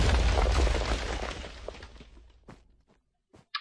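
A cannon fires in Minecraft during a battleship fight, giving a loud booming blast that rumbles and decays over a few seconds, followed by a couple of faint later pops.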